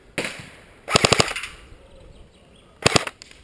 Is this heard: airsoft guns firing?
yes